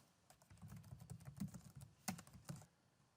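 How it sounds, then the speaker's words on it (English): Computer keyboard typing a case name into a legal research search box, a quick irregular run of soft close keystrokes with one sharper key press, alone in a quiet room. "typing in the name of the case"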